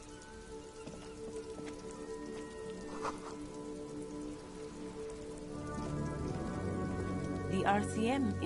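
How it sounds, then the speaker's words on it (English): Rain falls in a constant dense patter over a city street in the Disco Elysium game, with faint musical tones and a low hum rising toward the end. "This rain will not let up anytime soon."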